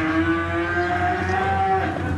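A pure Limousin cow on a farm gives a long, loud, drawn-out moo close by, the pitch wavering as it goes, with no voices.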